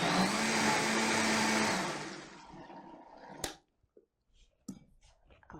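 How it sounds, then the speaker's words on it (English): A blender whirs loudly through tomato and white bean soup for about two seconds, then spins down, leaving a few faint clatters and knocks. "we'll give it a quick blend"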